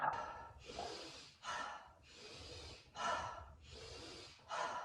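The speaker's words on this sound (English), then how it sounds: "it's cyclic breathing. So it's breathe in consciously and out" Cyclic conscious breathing repeats in and out, about six loud, airy breaths in an even rhythm close to the microphone with short pauses between them.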